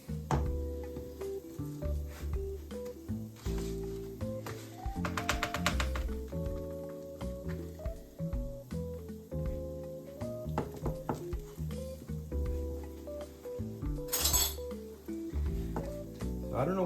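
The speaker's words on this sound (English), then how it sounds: "So I'm gonna serve this rice." Cooked rice being served onto a plate, with scattered light clinks and taps of utensils against dishes over steady background music.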